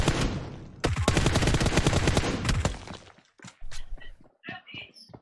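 Loud rapid burst of gunfire in a Malay detective drama, dense overlapping shots for about two seconds, followed by a few scattered, sharper single cracks and clatter.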